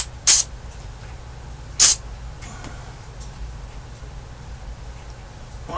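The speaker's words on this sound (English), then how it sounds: "Good contact cleaner is your best bet." Two short, sharp hissing bursts of contact cleaner spray onto a Mesa Boogie .22 Cal tube amp, close and loud, separated by about a second and a half of quiet hum.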